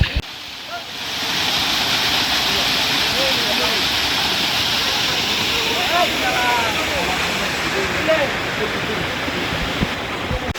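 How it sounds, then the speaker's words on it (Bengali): A waterfall at Sitakunda roars in a loud, continuous broadband rush close by, with wind buffeting the microphone and faint voices under the water noise. "তো আমরা এখন ঝর্ণার মধ্যে চলে যাই।"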